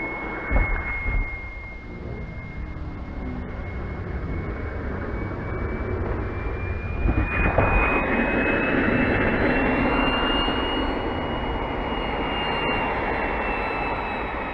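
Electric ducted-fan model jet flying past and coming in to land, its steady high turbine whine and rushing roar holding loud throughout with a brief surge midway, no talking.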